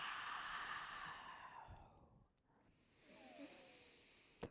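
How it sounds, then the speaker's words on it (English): A long breathy yawn during a relaxed yoga session, an airy exhale fading out slowly, followed by a soft voiced sigh and quiet breathing. "And then yawn."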